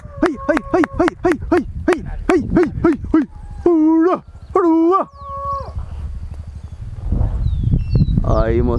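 Hunting dogs on a wild boar hunt in Brazil yelp and bark in quick, repeated high calls, close and loud, then howl in longer notes before a rustling burst at the end.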